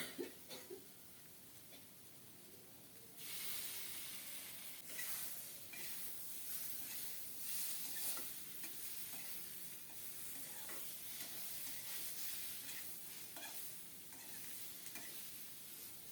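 Taro stolons with roasted cumin paste being stirred and fried in a pan, a steady close sizzle with scraping spoon strokes that grows louder after a few seconds and carries on without talk.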